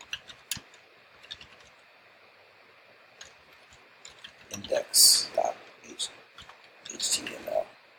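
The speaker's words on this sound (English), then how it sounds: "The wonders of live typing." Live typing on a computer keyboard in a terminal, with light scattered key clicks early, then busier bursts of keystrokes, all fairly close, with a voice talking over parts of it.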